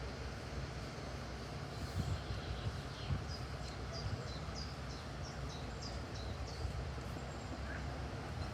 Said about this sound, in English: whilst you watch the train leave